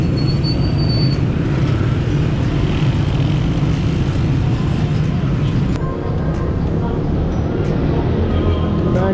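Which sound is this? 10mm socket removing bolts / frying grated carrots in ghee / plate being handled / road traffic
road traffic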